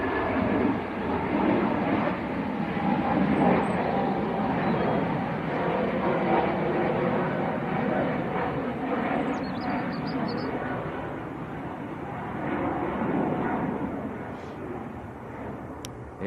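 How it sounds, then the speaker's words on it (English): Lufthansa Airbus A320neo jet bound for Munich at Manchester Airport, a moderate continuous engine rumble and whine at some distance, swelling slightly near the end, with faint talk over it. "That is Lufthansa to Munich, A320neo."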